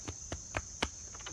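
Insects chirp outdoors in a rhythmic series of four or five short pulses over a continuous high whine, fairly faint and with no one talking.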